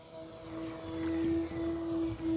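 An E-flite Beechcraft D18 RC model plane, a 1.5 m twin, runs at full throttle with a steady, buzzing propeller drone and a high engine tone that swells slightly as it passes.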